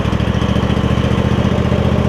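Close, steady engine chugging from a Craftsman DYS4500 riding mower with a Kohler Courage V-twin engine, a loud, even low-pitched pulsing throb with no voices over it.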